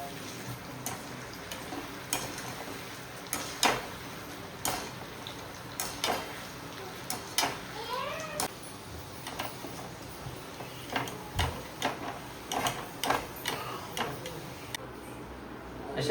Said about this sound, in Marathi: तेलामध्ये असे झाऱ्याने परतत पाहिजे.